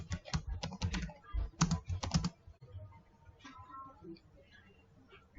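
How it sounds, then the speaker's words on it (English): Clustered clicks of a computer keyboard come in quick bursts at close range, then fade into quieter room sounds, with a voice speaking faintly over the later part. "You can type in your message."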